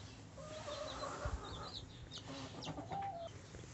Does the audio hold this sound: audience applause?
no